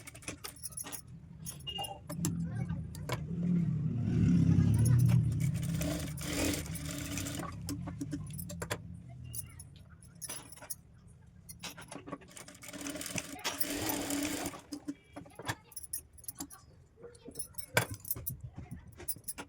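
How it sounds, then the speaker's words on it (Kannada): A sewing machine stitches the front part of a blouse in steady runs, loudest early, then continuing in shorter bursts with faint background activity. "ಇವಾಗ ನಾವು ಫ್ರಂಟ್ ಪಾರ್ಟನ್ನು ನಾವು ಸ್ಟಿಚ್ ಮಾಡೋಣ"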